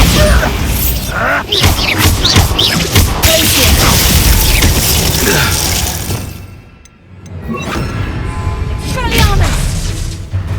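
A Bombarda blasting spell goes off in Hogwarts Legacy amid loud crashing, smashing debris and thumps, followed by a brief lull and another burst of clattering impacts, with voices speaking over parts of it.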